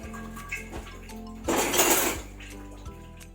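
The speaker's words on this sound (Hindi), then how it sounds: "ये घी गर्म होने पे अब ये मैं सूजी डाल रही हूँ। सूजी हमने चूंकि पहले ही भुनी हुई है, इसे बस मिक्स ही करना है घी में।" Semolina tipped into hot ghee in a kitchen pan for suji halwa and stirred: a close burst of pouring rustle and sizzle in the middle, framed by metal clinks of utensils against the pan.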